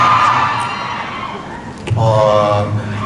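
A concert crowd at a live show in Bangkok screams and cheers, a continuous roar of high voices that dips midway and then swells again, mixed with amplified talk from the stage.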